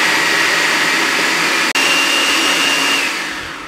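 An electric food chopper whirs steadily as it chops boiled chickpeas with onion, green chilies, mint and coriander, a loud continuous motor drone with one brief cut-off midway before slowly winding down.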